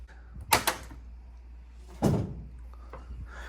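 Miele washing machine door being opened: a latch click and clunk, then a heavier thud as the door swings, close and clear against a low hum, no talking.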